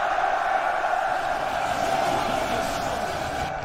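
Massed soldiers cheering in the strategy game Rome Total War, a dense, steady crowd roar of many voices held at an even loud level throughout with no pauses.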